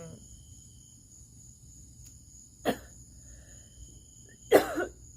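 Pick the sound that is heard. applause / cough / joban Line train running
cough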